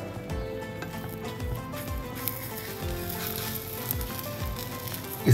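A cheese omelette frying in a pan over a low flame, a steady soft sizzle with faint bubbling, close and even throughout, with a light clatter at the end.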